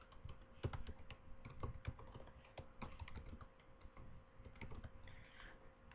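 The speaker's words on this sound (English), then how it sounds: "So we can type our topic in, we can type anything we want" Quick, irregular keystrokes tap on a computer keyboard while a presentation topic is typed in, close and fairly quiet, with bursts of clicks and short pauses throughout.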